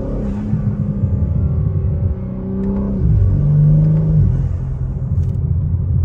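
BMW G80 M3 fitted with ARM Motorsports intakes, heard from inside with windows up: a deep, loud engine rumble rising through two revving surges with intake whir, no speech.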